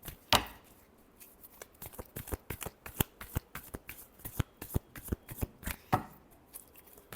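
Tarot cards are shuffled by hand in a quick run of crisp riffling slaps and flicks, close and fairly loud, with no voices over them.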